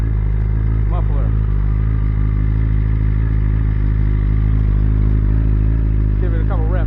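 A BMW S1000RR superbike with a stock muffler and Akrapovic headers revs to around 6,000 RPM, a loud, steady, close-up engine roar held for the whole stretch, with brief chirps and clatter over the top.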